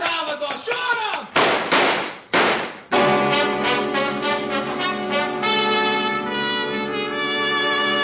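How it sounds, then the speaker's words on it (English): Gunshot sound effects in an old-time radio detective drama, with three sharp, loud bangs in quick succession followed by sustained music. "shoot him, Salvador."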